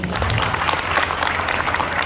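A crowd at a ceremony honouring meritorious students claps steadily, a thick wash of applause with some faint voices underneath.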